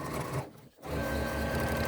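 A sewing machine runs a short burst of back stitching along the top of a crossbody bag, pausing briefly in the middle before the rapid mechanical stitching resumes, close and steady.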